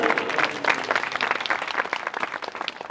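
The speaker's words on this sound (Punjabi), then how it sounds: "ਤਾੜੀ ਮਾਰੀਏ ਜ਼ੋਰ ਦੀ" Church congregation at a Christian gathering applauding loudly, a dense burst of many hands clapping together, close and energetic for a few seconds with no talk over it.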